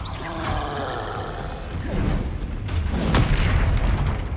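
A troll in the Hogwarts video game lets out deep, rumbling roars and booming thuds, loud and close, swelling and growing heavier toward the end.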